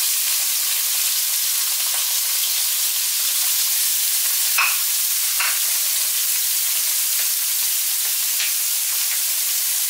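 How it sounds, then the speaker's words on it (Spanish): Chopped onion frying in oil in a pan for rice with salt cod, giving a steady, close, loud sizzle and hiss with a few faint scrapes from stirring, and no talk. "ahora vamos a empezar a freír la cebolla, que la tenemos picadita"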